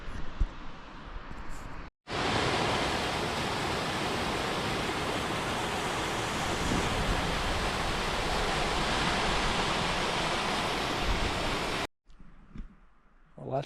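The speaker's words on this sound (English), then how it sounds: "We got fresh water right there coming in" Fresh water stream pouring into a lake on a solo backpacking trip, a steady loud broadband rush of flowing water held for about ten seconds, ending abruptly, with quieter outdoor sound before and after.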